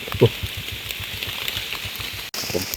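Rain patters steadily on leaves and ground in the Nong Mek forest during mushroom gathering, a dense close crackle with a few louder drops and a brief sharp break near the end.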